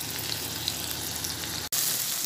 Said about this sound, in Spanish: así vamos a ir por partecitas friendo esta carne